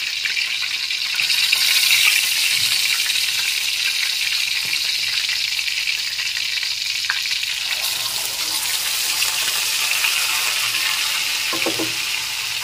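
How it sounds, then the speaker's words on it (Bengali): Dried red chillies sizzle in hot oil in a pan, the start of a Bengali tilapia curry before onion paste goes in. The frying hiss is loud, steady and close, with a few soft stirring clinks and no voices. "একটু হালকা নেড়ে চেড়ে ভেজে নেওয়ার পর এর মধ্যে দিয়ে দেব পেঁয়াজের পেস্ট"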